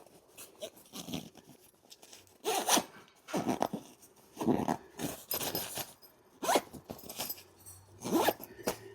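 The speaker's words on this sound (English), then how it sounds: "So now let's use this little compression zipper." A compression packing cube zipper is pulled closed in a series of short, rasping bursts, close and fairly loud, with brief pauses between the pulls.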